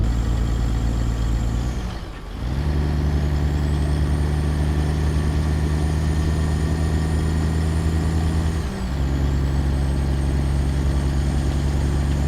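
Another truck passes on a snowy Alaska road in a trucking game with a 1974 Kenworth W900A, heard as a loud, steady drone of diesel engine rumble and whine lasting throughout, with brief dips as it goes by.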